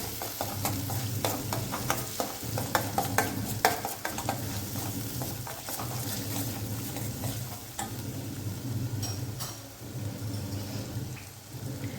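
Tomato cooked with red chili, coriander-cumin powder and garam masala for a sprouted moth-bean curry sizzles steadily in the pan while a spoon scrapes and clinks through it in irregular strokes, close up and continuous.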